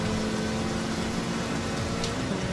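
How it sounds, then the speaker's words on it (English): Racing cars pass in the Forza 6 video game, a continuous loud engine drone with a steady tonal hum and little change over the few seconds. "Cars are flying past me here."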